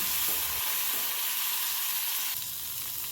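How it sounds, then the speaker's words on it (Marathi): Green peas tossed into hot oil with cumin in a kadai over medium heat give off a dense, steady sizzle that shifts slightly as they are stirred, close and alone. "त्यानंतर लगेचच वटाणे घालून मिडियम गॅसवर एक मिनटं परतून घ्यायचं"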